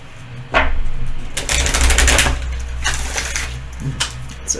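Close, busy rustling and riffling of tarot cards being shuffled, a dense papery clatter in uneven bursts over a low steady hum.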